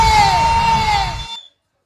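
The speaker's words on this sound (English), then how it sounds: "Give him a round of applause and make some West Love noise for him" A loud crowd at a campaign rally roars and cheers with sustained shouting and whoops, close and dense, before cutting off abruptly.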